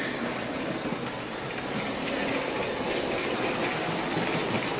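An OO gauge Hornby Coronation model train runs steadily on track, giving a continuous close whirring rumble with faint rhythmic rail clicks and no talk.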